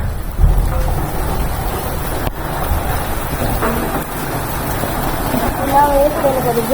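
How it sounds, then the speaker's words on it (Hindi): Steady heavy rain falls outdoors with a low rumble of thunder and gusty wind noise, a constant loud wash throughout, while people talk excitedly close by. "क्या बारिश आ गई है?"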